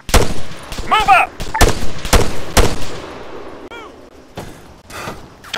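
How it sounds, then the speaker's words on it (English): Arma 3 gunfire: several loud, sharp shots at irregular intervals, some near and some farther off, with brief radio-style chatter chirps between them. "Concentrate your fire down the valley!"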